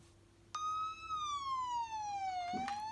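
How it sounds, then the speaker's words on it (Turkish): An ambulance siren from a car game comes in suddenly and loud, a single electronic tone gliding slowly downward and then starting to rise again, close and clear over quiet background. "Oo, geldi ambulans."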